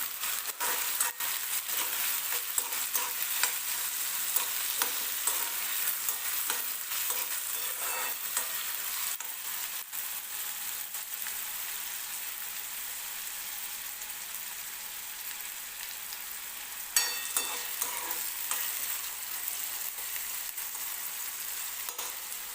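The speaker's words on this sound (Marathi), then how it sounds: "याच्यातच बटाटा टाकून घेते बटाटा पण तेलामध्ये दोन तीन मिनटात व्यवस्थित फ्राय होऊन जातो" Potato pieces fry in hot oil for poha, a steady, dense sizzle close by with occasional scraping stirs, continuous throughout.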